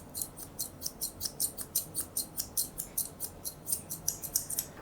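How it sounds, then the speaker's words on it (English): Grooming scissors snip rapidly through a poodle's coat while shaping the flank in a modern trim, crisp metallic cuts in a quick, even rhythm, close up and alone. "I'm going to scissor in his flank area from behind and pointing my scissors towards his flank and towards his tuck up"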